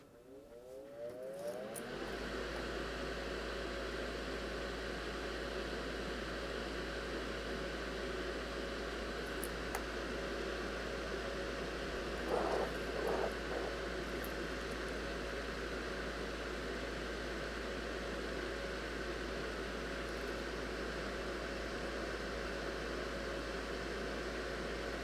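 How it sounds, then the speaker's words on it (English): A fume extractor fan hums steadily once switched on at a soldering bench, a constant close whirring broadband noise with a low drone that stays even for the rest of the stretch. "Going to turn our fume extractor on."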